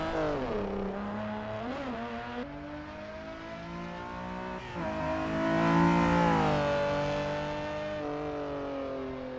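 A small car's engine revs and changes pitch in Assetto Corsa EVO, a racing game, rising and falling through gears with a steady, close drone and a louder surge near the middle, no talk over it.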